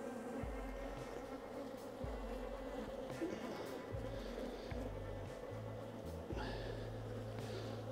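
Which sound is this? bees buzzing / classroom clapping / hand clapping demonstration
bees buzzing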